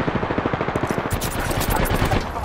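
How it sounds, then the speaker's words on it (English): Rapid automatic gunfire in Apex Legends, a loud, steady rattle of close shots in quick rhythmic bursts that continue throughout with barely a pause. "Listen up, I'm getting shot at."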